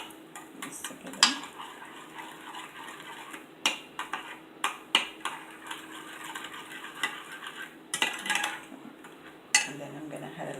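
Spoon scraping and clinking against a bowl while stirring coleslaw dressing with sugar, irregular close metallic clicks and scrapes with a few louder taps, no talking.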